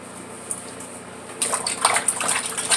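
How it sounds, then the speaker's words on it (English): Rinsing soap off a face during a head and face shave, water splashes loudly and steadily from a running tap. The washing starts partway through, after a quieter stretch, and is close and continuous with no talking. "rinse your face really well, get all that soap out"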